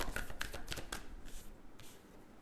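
Tarot cards are drawn and slid from a deck, giving soft, close, papery flicks and snaps in a quick cluster, then a fainter riffle, all quiet with no talk.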